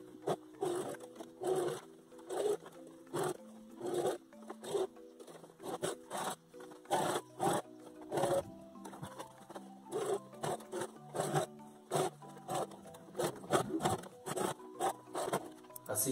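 A sewing machine runs a straight stitch along the edge of a hoodie in quick, rhythmic bursts with short pauses between runs, close and moderately loud over a faint tonal background.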